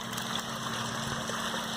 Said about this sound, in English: And then now you can hear that little hum. That's the air pump.